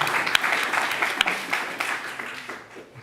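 Applause from an esports demo day audience after a prize result, a steady dense wash of many hands clapping with a few sharper claps standing out, fading slightly toward the end.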